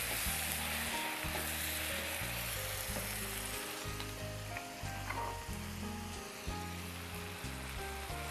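Chopped tomatoes fry and sizzle in a pan while being stirred, a loud continuous crackling hiss with repeated spoon scrapes and knocks, close up and without talking.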